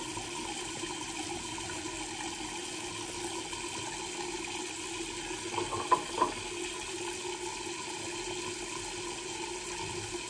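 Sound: water running from a tap during shaving

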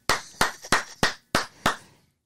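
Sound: hand clapping

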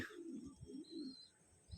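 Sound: satin pigeon cooing

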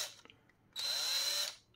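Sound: drilling holes with a 6 mm drill bit

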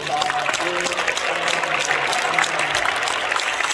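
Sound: audience applause for new president

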